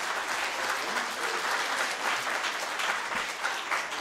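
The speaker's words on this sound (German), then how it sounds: "ihr beide kriegt einen großen, dicken Applaus" An audience claps loudly and continuously, a dense, even wash of applause that fills the whole stretch without pause.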